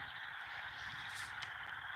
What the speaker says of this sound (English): the frogs are just overpowering